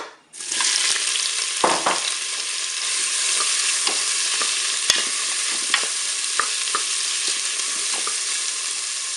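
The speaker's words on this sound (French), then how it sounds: "Allez, mon huile est chaude, je vais mettre mes crevettes." Shrimp go into hot olive oil in a Cookeo pot and burst into a loud, steady frying sizzle that continues throughout, with occasional pops and light clinks of a utensil.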